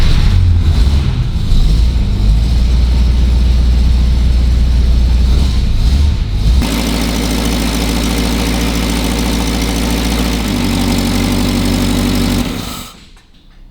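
A Buick engine catching and firing up, rough uneven bursts at first that settle into a steady, loud idle close by, then cut off abruptly at the end.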